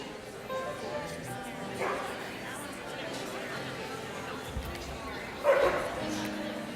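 A dog at a church pet blessing gives a few sharp barks and yips amid crowd chatter and a person talking nearby.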